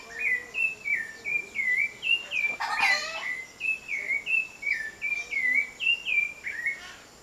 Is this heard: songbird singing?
yes